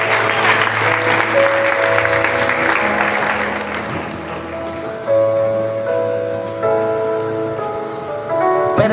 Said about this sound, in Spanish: Denle un aplauso fuerte al Señor y pueden sentarse.